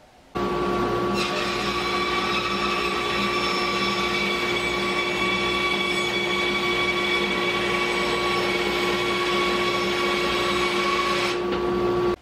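A power saw fitted with a Little Ripper jig rips through cedar, starting abruptly and holding a loud, steady motor whine with a sustained tonal hum for about ten seconds before cutting off.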